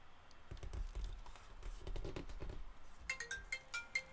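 A mobile phone rings with an incoming call from a family member: a bright, tinkling ringtone melody that begins partway through, following a stretch of soft tapping and rustling as paper cranes are folded, with no talk.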